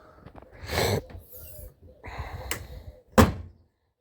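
A Volkswagen Touareg hatch lid is handled with scuffing and rattling, then shuts with a sharp, loud thunk near the end.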